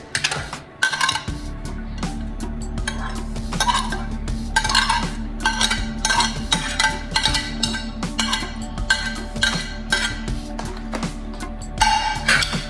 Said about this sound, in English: And we're just going to mix it well.